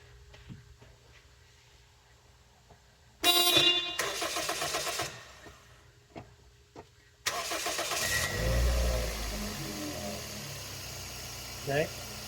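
A 2002 Toyota Echo fitted with four brand-new ignition coils cranks briefly, pauses, then cranks again and catches, settling into a steady nearby idle; a short horn-like blip sounds near the end.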